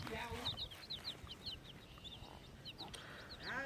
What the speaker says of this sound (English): got some chicks